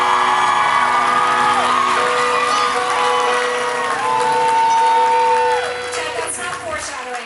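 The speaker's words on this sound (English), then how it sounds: "we ripped the roof off this place with applause for Mr. Ted Gower." A concert crowd cheers, whoops and shouts for a band member at a club show, a loud, sustained roar of voices that tapers off near the end.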